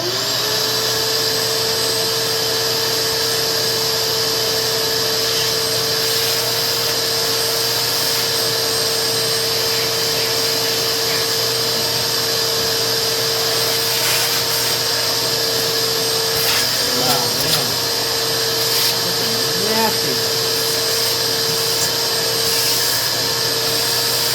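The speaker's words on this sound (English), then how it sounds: "go in with a brush and the vacuum at the same time and get it done" A steady mechanical whine like a vacuum cleaner runs throughout, with faint scrubbing and rustling layered on top, as a brush and vacuum clean a Yamaha home theater receiver.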